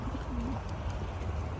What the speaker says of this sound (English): We got the birds here.